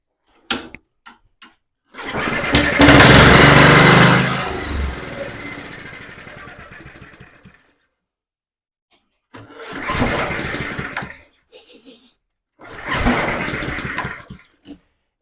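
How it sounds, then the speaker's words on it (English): An Alpina RS100 small two-stroke engine sputters to life and roars loudly through its exhaust for several seconds, dies, then fires again in two shorter loud bursts separated by silence and faint clicks. "It sounds really loud, the exhaust."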